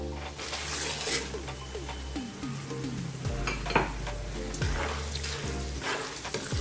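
Cashews and roasted gram frying in a pan, a steady close sizzle broken by repeated scraping stirs of a spoon, with a voice talking over it.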